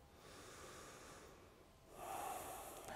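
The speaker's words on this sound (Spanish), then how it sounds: "Entonces tomo aquí una respiración profunda en Samastitihi" A deep breath during yoga practice, a long soft inhale through the nose followed by a louder, brighter breath that swells near the microphone in a quiet room.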